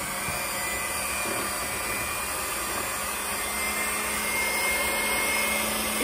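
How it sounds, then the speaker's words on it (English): A handheld mixer runs continuously while mixing alginate for casting, a loud, steady whirring drone lasting several seconds with no talking. "So I'm gonna hold the mixer in my right hand and the alginate in my left."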